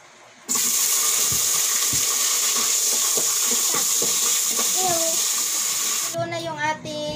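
Water at a rolling boil in a pot for tilapia sinigang, a loud steady bubbling rush with a sudden start, while a person talks over it near the end.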